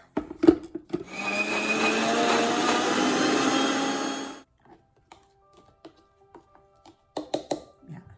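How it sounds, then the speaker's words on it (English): Mixer grinder blending roasted spices with water: a steady, loud whirring grind runs for about three seconds, then stops, followed by faint clinks and handling noises. "Let's go ahead and grind this."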